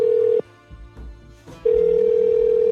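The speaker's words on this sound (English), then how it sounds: "while I was dialing through number after number" Telephone dialing tones: a steady dial tone sounds clearly, cuts out for about a second with faint clicks and low rumble, then resumes and holds to the end, close and loud with no voices.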